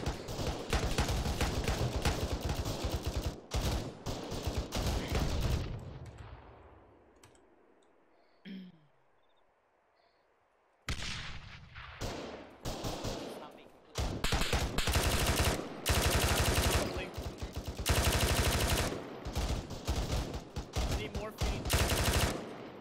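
Gunfire in the ArmA 3 video game, rapid bursts of automatic fire and crackling shots that fade to near silence midway, then return loud and dense with repeated volleys.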